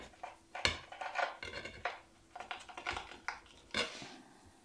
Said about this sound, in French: Allez, on se coupe une part.